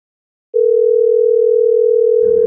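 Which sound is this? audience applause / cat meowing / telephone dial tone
telephone dial tone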